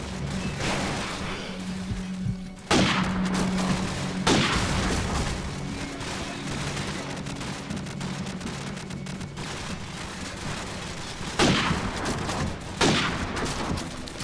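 Sniper rifle fire in Call of Duty 4: Modern Warfare, a few sharp, loud single shots spaced seconds apart over a steady background of battle noise, without voices.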